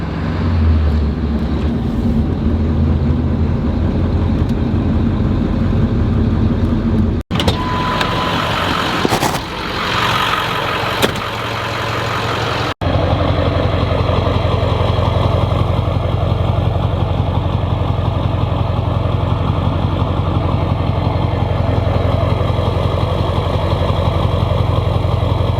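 A Ford Powerstroke diesel truck engine rumbles steadily and loudly throughout, with a brief rougher, noisier stretch midway before the deep, even drone resumes.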